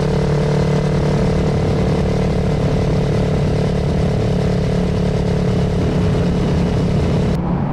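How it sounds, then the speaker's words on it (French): A motorcycle engine runs loud and close, holding a steady, droning roar with little change in pitch before it cuts off abruptly at the end. "le mec il a entendu une moto"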